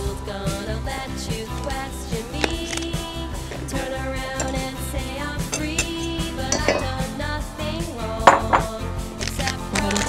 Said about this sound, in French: on mélange quand même un certain temps pour bien mélanger les œufs avec le sucre